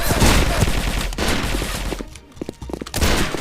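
Rapid bursts of gunfire from the online shooter Sudden Attack rattle loudly in quick succession, with a short lull before another volley of shots.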